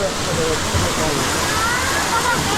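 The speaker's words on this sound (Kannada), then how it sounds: "ಆ ತುಕ್ಕ ತುದಿಯಿಂದ ಬೀಳ್ತಾ ಇರೋ ನೀರು. ಸೊ ಇದಕ್ಕೆ ಅಪ್ಸರಕುಂಡ ಫಾಲ್ಸ್ ಅಂತ ಹೆಸರಿದೆ." Apsarakonda waterfall near Honnavar in Uttara Kannada, with water plunging from the top of the falls in a loud, constant, close roar that never lets up.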